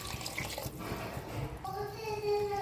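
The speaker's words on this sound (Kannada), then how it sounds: "ನೀರು ಹಾಕ್ತಾಯಿದ್ದೀನಿ." Water is poured into a pot of rice for mushroom biryani, about six and a half cups, making a steady close splashing rush that shifts in tone as the pot fills.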